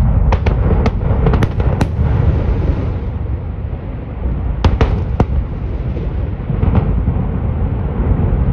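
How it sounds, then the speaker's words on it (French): A sharp series of explosive cracks and bangs over a steady loud rumble, with bursts clustered early and again midway, close and forceful, with no voices. "Pas besoin de bosser dans une mine pour apprécier cette incroyable vidéo d'explosion."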